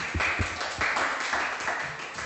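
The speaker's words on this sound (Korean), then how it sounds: "박수." Children clapping together at a Korean Sunday school service, a short burst of several quick claps in a roomy space, fading into scattered taps.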